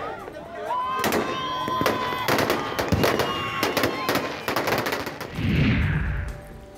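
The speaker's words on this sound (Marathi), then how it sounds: "जयस्तंभ चौकात फटाक्यांची आतषबाजी करण्यात आली" Fireworks burst at a public Ambedkar Jayanti celebration at Jaystambh Chowk in Nashik, a dense run of loud sharp cracks and rapid popping over a noisy outdoor crowd, with a heavier rumbling blast near the end.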